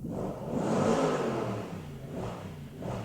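An Audi S4 B7 sedan's V8 engine runs at a smooth, moderate idle from close range, with gentle swells in its low rumble and no voices.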